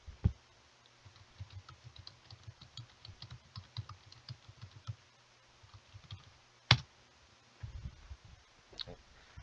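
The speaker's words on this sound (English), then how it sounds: "hold on, I'll type it in quick." Someone types on a computer keyboard, with quick, quiet runs of key taps broken by short pauses and a couple of sharper clicks, heard up close in a quiet room.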